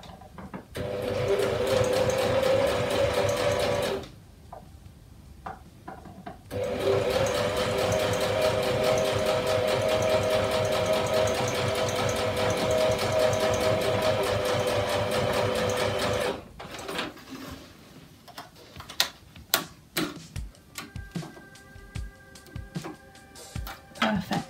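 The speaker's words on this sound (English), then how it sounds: "Helps if I switch on the sewing machine." A sewing machine runs in steady bursts, stopping briefly and starting again, then falls silent before scattered clicks and light handling noises.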